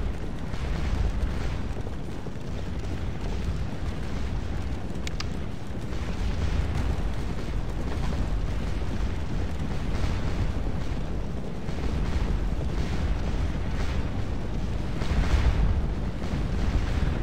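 Artillery battery firing in the Napoleonic battle game Scourge of War: Waterloo, heard as a steady dense rumble of cannon fire and battle noise, loud and continuous throughout with no clear separate shots.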